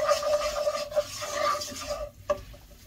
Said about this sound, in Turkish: Şöyle unumuz pembeleşene kadar burada unumuzu kavuruyoruz.